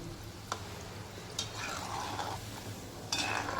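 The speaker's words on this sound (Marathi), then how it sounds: "सारखं हलवत राहायचं खालूनवरती खालूवरती हलवत राहायचं" Shankarpali frying in hot oil in a kadhai, stirred with a spatula that scrapes and clinks against the pan a few times over a steady soft sizzle.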